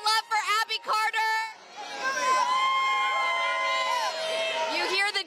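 About a thousand fans in the Coachella Valley cheer for Abi Carter after her American Idol 2024 win, a loud sustained roar of shouts and whoops that swells after a few choppy opening bursts of voices.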